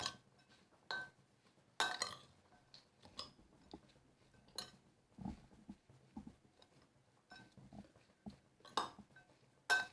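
Spoon clinking against a bowl while chilli powder, dried coriander and other spices are stirred together for a veg omelette, with scattered light taps and scrapes at an irregular pace, close and fairly quiet.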